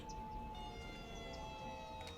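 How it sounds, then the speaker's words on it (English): Fire truck sirens wail steadily in Cities Skylines as two engines respond to a burning shopping center building, a faint sustained tone under constant city ambience with no talking. "There's the fire trucks."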